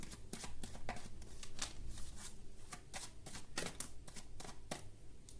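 Tarot cards shuffled in steady, rapid riffles, a dense papery flutter that stays close and continuous with no talking.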